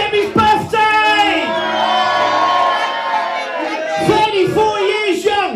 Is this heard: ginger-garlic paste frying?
no